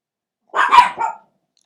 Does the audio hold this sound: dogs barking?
yes